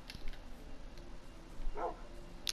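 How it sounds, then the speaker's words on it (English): A dog in a Minecraft game gives a short bark or yip, brief and fairly faint against quiet game ambience, with a soft click near the end. "Hello, doggy."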